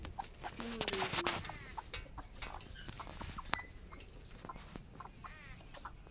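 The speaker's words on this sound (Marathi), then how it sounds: "हे गावरान कोंबड्या आहेत" Soft clucks and scattered calls from a few native country chickens on a chicken farm, fairly close, with light rustling and faint background noise.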